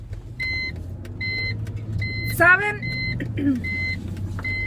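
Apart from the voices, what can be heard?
car seatbelt warning chime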